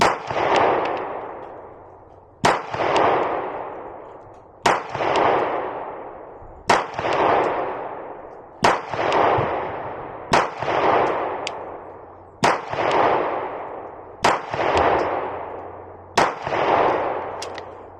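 Beretta PX4 Storm Compact Carry 2 pistol fired at a shooting range, eight loud, sharp shots spaced roughly two seconds apart, each followed by a booming decaying echo, with no talking.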